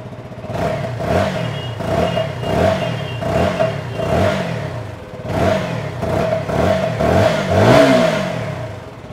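A stock Kawasaki Z900 superbike engine revs repeatedly in sharp rising bursts, loud and close, with a steady idle whine between throttle blips.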